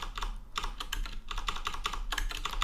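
Rapid clicking keystrokes on a computer keyboard, close and fairly quiet, coming in quick bursts with brief pauses between them.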